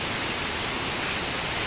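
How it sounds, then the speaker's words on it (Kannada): Heavy monsoon rain pours down in a dense, steady hiss, close and unbroken from start to finish, with no voices. "ಫುಲ್ ಮಳೆ ಇತ್ತು"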